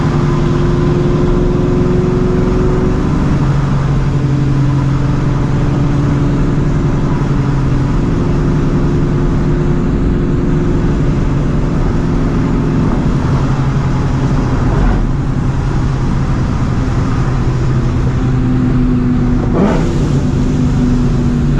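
Loud supercharged 450 hp 2V Mustang GT V8 with an aggressive McLeod clutch, heard from inside while driving, a steady heavy engine drone that swells as it revs, continuous throughout with no talk.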